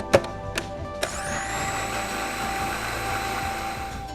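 Inalsa Fiesta 650-watt food processor running its blending jar, a loud, steady high-pitched motor whine close by that starts after a few sharp clicks and holds constant to the end.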